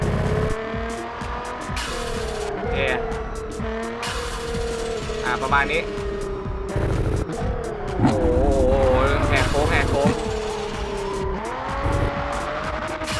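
Assoluto Racing video game with a roughly thousand-horsepower race car whose engine drones and revs steadily throughout, tires squealing through corners and downshifts, while someone talks over it.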